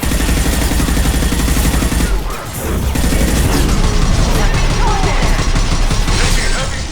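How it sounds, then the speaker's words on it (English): Heavy gunfire in the video game Mass Effect 2, a loud, dense stream of shots and crashing impacts that runs almost throughout, with a short lull partway and a faint voice underneath. "Taking heavy fire."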